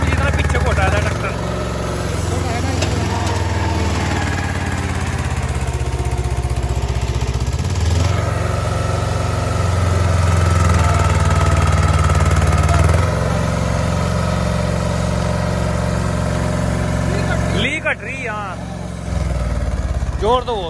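A heavy Mahindra Jivo 305 4x4 tractor engine drones and labors continuously in first gear while pulling a trolley, rumbling loud and close throughout with some roughness and a brief change near the end.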